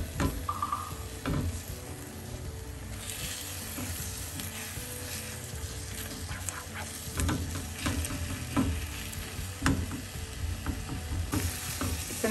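Enoki mushrooms sizzle in a hot pan on lowered heat, a steady crackling fry broken by scraping, clattering turns of a utensil, close-up and without speech.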